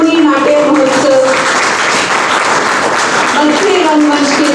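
Theatre festival audience in Ambala clapping, a sustained wash of applause running through the whole stretch while a person speaks over it.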